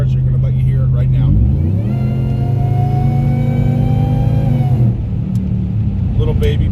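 A Whipple-supercharged 5.7 Hemi V8 in a Ram pickup revs up, its pitch climbing steadily with a whining supercharger tone, holds high, then drops back to a rumbling idle; a voice is heard briefly.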